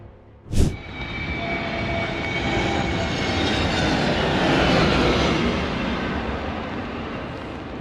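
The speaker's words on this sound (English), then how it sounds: "Due to bad weather, the flight failed to land. The pilot immediately decided to take off again." A Bangladesh Air Force combat trainer aircraft taking off again after an aborted landing in bad weather, a sharp bang followed by a sustained, building jet engine roar that swells and holds, loud and without voices.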